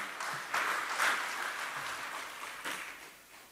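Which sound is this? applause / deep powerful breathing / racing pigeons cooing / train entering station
applause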